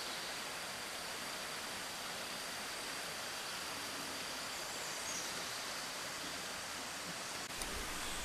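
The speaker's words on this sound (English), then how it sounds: "I never listen to the stream, but you can definitely hear it in the background" A soft, steady rush of a flowing stream carries on unbroken in the background of a Georgia mountain garden, faint and even, with no voices.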